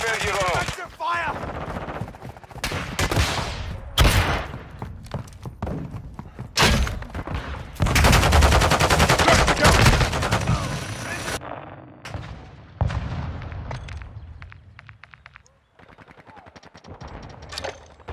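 Heavy gunfire in Call of Duty: Modern Warfare 2, with loud, close automatic bursts, single cracks and booming blasts coming in dense waves, while radio voices call out over the battle.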